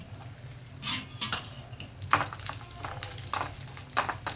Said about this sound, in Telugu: కొబ్బరి ముక్కలు లేటుగా వేగుతాయి కదా, అందువల్ల నేను ఫస్ట్ కొబ్బరి ముక్కలు వేసాను.